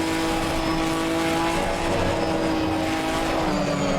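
Race car engine in a racing sim at high revs as the car loses control and slides off track, a sustained loud tonal drone with shifting pitch and tire noise.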